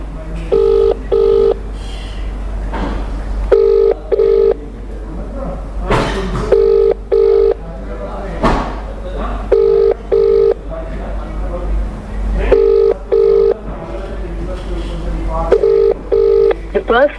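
An outgoing telephone call rings repeatedly, with regular paired ringback tones recurring through a steady line hum while a voice occasionally talks underneath.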